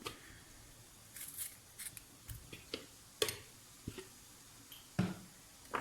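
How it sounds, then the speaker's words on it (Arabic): A knife cuts through a tomato on a board during home cooking, making a series of quiet, separate clicks and light squishy taps, spaced irregularly and heard alone. "وهذا طماطم باش نقص هكا على زوز كما تشوفوا"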